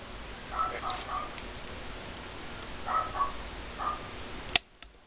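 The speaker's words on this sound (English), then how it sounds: "as soon as the gun is cocked and you hear it click" An Autococker paintball gun is cocked, giving a few faint mechanical slides under steady hiss, then one sharp, close click near the end.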